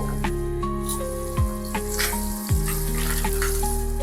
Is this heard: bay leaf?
yes